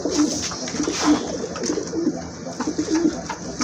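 A Lahori pigeon coos close by in a steady run of soft, throaty calls repeating every half second or so, with no voices.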